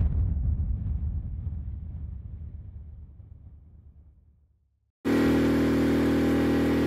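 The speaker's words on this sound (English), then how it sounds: "this thing is really, really loud, this generator" A Pulsar 3200W propane and gas dual fuel inverter generator runs with a loud, close engine rumble that fades away over several seconds, then cuts abruptly into a steady, much louder broadband roar. No one speaks.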